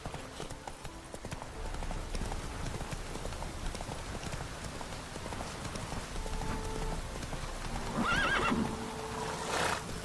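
Roach the horse in The Witcher 3, hooves clip-clopping steadily through light rain, then a clear whinny near the end, with game ambience around it.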